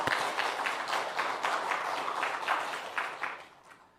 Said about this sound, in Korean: 우리 다시 한번 하나님 앞에 영광의 박수 올려드리도록